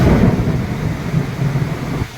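Heavy rain pours down on a flooded farm with deep rumbling thunder, a loud, steady roar of downpour that drops off sharply near the end.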